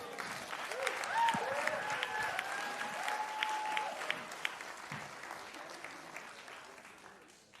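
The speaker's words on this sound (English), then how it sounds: "Let's give another round of applause for all of our amazing sponsors" Audience applause at a biotech startup demo day, a sustained wash of clapping from a sizable crowd in a hall, fairly distant, with a few whoops and a voice heard faintly over it before it tapers off.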